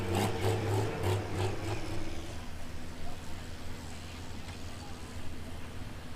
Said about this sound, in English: Have you ever heard a V8 tractor, a V8 Pro Stock tractor spark up?